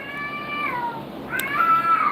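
A domestic house cat meows twice in long, drawn-out, whining calls, close to the listener, the second cry louder and more insistent than the first, with no voices.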